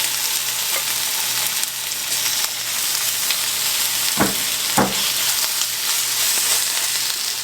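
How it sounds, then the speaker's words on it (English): Beef frying in batches in a hot pan, a loud steady close sizzle broken by two sharp utensil knocks partway through. "And I'm going to add my beef into batches, because I want them to get crispy"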